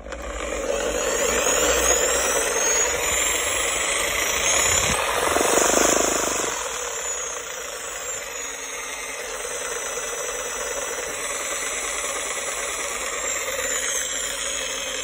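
A Makita JR3050 reciprocating saw runs continuously near the listener with an even motor whine and buzz, briefly shifting in speed and tone partway through before settling back to a steady drone.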